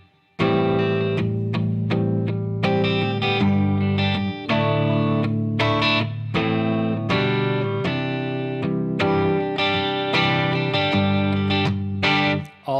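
Electric guitar strummed through an Origin RevivalDRIVE overdrive pedal: gritty, sustained distorted chords struck repeatedly in a steady rhythm, loud and close, playing alone without any talk.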